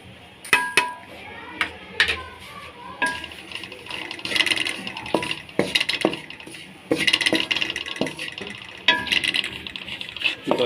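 Roasted besan with sugar and milk powder is stirred in a pan, giving irregular metallic clinks and scrapes of a spoon against the pan in uneven bursts, close up.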